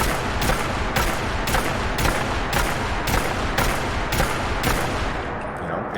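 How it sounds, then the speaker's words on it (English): A huge shoulder-mounted .50 caliber M2 machine gun fires in Fallout 4, a loud, steady string of about a dozen heavy booming shots in even rhythm with a fading tail at the end. "It's shooting 50 caliber bullets."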